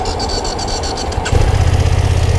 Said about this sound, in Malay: mari kita cuba start tengok ini BMW F900 XR bunyi condition macam mana.